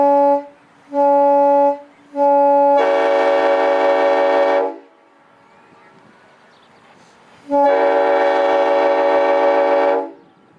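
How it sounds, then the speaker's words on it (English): A Nathan M5 locomotive horn sounds at a railroad horn demonstration, three short chime blasts followed by a long sustained blast, a pause with faint background noise, then another long loud blast. "This is the Nathan M5."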